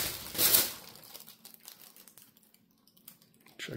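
Packing paper crinkling and rustling while being cut away from a leather belt, a loud close burst of crumpling followed by softer scattered crinkles and a final rustle.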